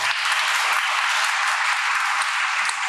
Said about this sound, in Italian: Uno strano modo di applaudire quello.